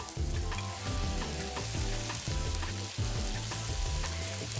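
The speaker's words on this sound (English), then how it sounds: "They've been sauteing for 10 minutes." Onions sauté in a pan with a busy, continuous sizzle and crackle, punctuated by rhythmic scraping and stirring strokes that repeat every second or so, close and fairly loud with no talk.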